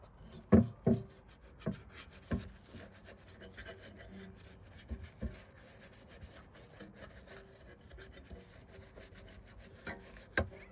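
A brush scrubs gunk out of a car's fuel door area in close, irregular bristly strokes, with a few sharper scrapes early on and quieter rubbing in between.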